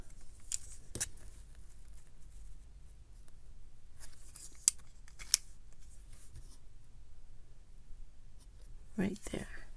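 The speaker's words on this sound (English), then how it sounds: "I'm just going to cut" Scissors snip paper while a junk journal is being made, with a few quick close cuts spread over quiet background hiss.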